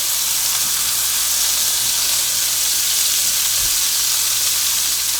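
Jalapeno poppers fry in a hot oiled pan, giving a loud, steady, close-up sizzle and hiss that holds without letup, with a few faint low bumps underneath and no talking.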